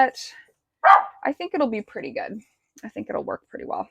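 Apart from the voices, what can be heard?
dog barking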